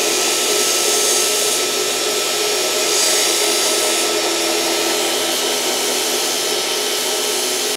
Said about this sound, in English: I can put these onto the burr grinder, get some of this remaining slag off the edges so I can make a nice clean weld